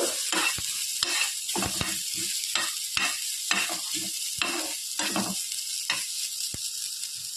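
Masala with grated coconut fries in a pan for a Masoor Dal Heerekai Tovve, a steady sizzle broken by sharp scraping strokes of a spatula against the pan at a regular rhythm, close and clear with no talking.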